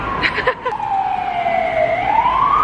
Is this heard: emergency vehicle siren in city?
yes